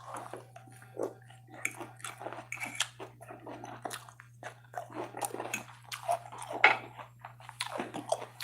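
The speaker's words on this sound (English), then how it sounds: "Lots of crunchiness going on." Crunchy chewing while eating curly fries, with irregular close-up bites and crunches spread through the clip at a low volume. No talking is heard over the chewing.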